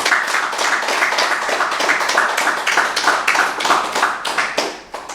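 Sustained clapping from a group at a guided morning dhyana yoga meditation session, dense and steady for several seconds with irregular louder bursts, no talk over it.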